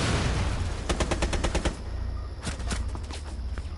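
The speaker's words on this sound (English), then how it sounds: "You heard all those shots?" Rapid gunfire from the game Rainbow Six Siege, a dense stuttering burst of shots followed by scattered single and paired cracks, loud and close with no talk over them.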